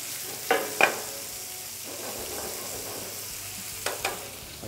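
Prawns sear in a hot pan while being turned and basted in their own juices, giving a soft, steady sizzle underneath a few brief scraping clatters of utensils against the pan; no one speaks.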